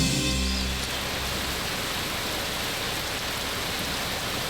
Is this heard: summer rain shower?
yes